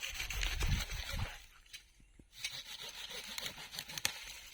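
A branch is cut from a grafted mango sapling, giving close rough scraping and rubbing strokes, a brief quiet pause, then more cutting and rasping with a few sharp snaps.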